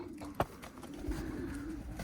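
Pigeons coo in a loft, a low steady murmuring coo running through most of the stretch, fairly close, with a brief sharp knock near the start.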